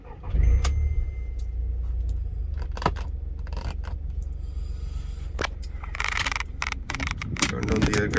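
A 2010 Volkswagen Polo Highline 1.2 petrol car driving, its low engine and road rumble steady throughout, with clicks and brief knocks inside the cabin and a person talking now and then.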